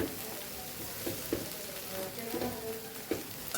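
Batata poha of flattened rice and potato is stirred and mixed in a pan with a faint sizzle, a spoon scraping and tapping softly at close range.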